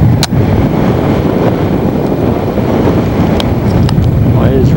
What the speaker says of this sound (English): Well, it is really windy.